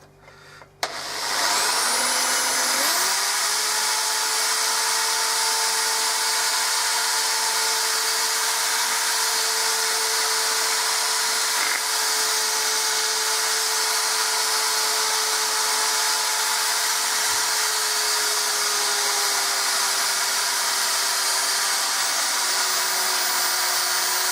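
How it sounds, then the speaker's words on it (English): A power sander whines loudly and steadily for a long stretch, sanding a drilled hole in a glass bottle, with a constant high-pitched drone close by and no talking. "I'm just sanding it back."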